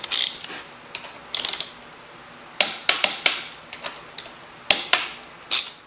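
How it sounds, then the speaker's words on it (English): A ratchet wrench tightens the fork pinch bolts and brake caliper on a Honda Magna motorcycle, giving clusters of sharp metallic clicks and knocks close by, irregular bursts separated by brief pauses. "tighten up our right pinch bolts. There we go. And then we can finish up on the caliper torque."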